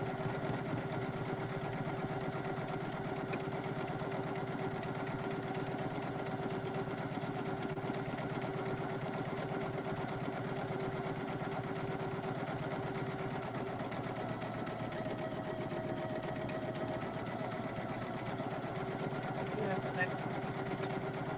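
A Poolin EOC06 single-needle embroidery machine stitches a patch, giving a steady, even mechanical hum and rapid needle buzz that runs unbroken throughout at a moderate, consistent level.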